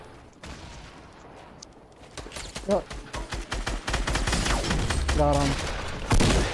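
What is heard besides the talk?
gunfire from the video game Fortnite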